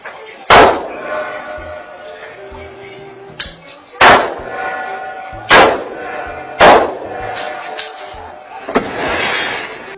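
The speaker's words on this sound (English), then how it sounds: "shooting out the lock of the door is going to work" Several sharp, loud gunshots fired at a door lock crack at irregular intervals, each with a short echoing tail, with faint noise between the shots.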